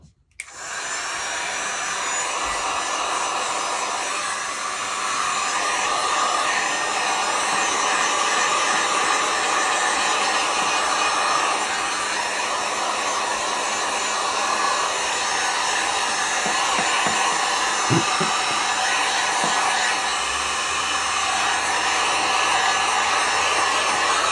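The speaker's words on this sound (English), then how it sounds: "I am gonna try to use a heat gun just to relax a little." A heat gun blows hot air in a loud, steady roaring whoosh that starts abruptly and holds constant, close up, with no talking.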